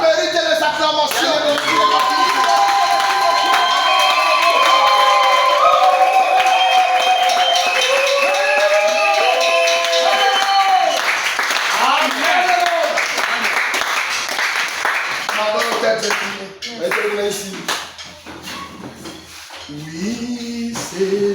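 Church congregation clapping and cheering during a pastor's sermon, loud rhythmic applause mixed with shouting and voices, sustained and close, easing off toward the end.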